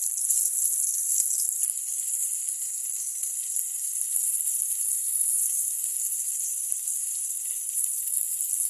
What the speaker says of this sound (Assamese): এতিয়া তেল গৰম কৰি এয়া বেঙেনা ফ্ৰাই কৰি আছোঁ।